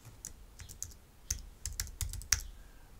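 Typing on a computer keyboard, close and fairly quiet, with irregular clusters of key clicks and a few sharper taps, no speech.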